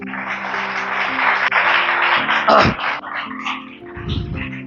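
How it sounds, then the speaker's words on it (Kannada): A church congregation at a Christmas service claps loudly in a dense, sustained wash of applause that tapers off within a few seconds, with steady musical tones underneath. "ಇವರಿಗಾಗಿ ಜೋರಾಗಿ ಚಪ್ಪಾಳೆ ತಟ್ರಿ."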